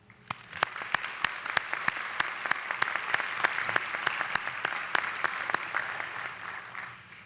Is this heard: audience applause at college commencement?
yes